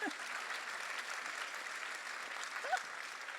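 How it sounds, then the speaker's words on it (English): Audience applause at a health summit, a steady wash of many hands clapping from a seated crowd, moderately distant and even throughout, with a faint voice briefly rising near the end. "I think that deserves a clap."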